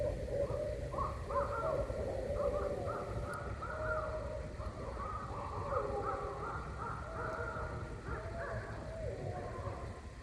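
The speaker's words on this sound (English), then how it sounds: "hear what I think are our barred owls trying to ward off neighboring owls to stay out of their territory" Several barred owls call back and forth at night in northern Minnesota woods, hooting and cawing in overlapping bursts, moderately distant over a steady background hiss.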